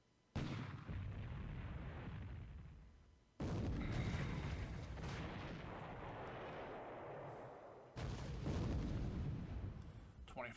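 Naval gunfire from 15 centimeter guns in a World War II fleet battle video game: three heavy, booming salvos, each followed by a long rumbling decay, loud and close.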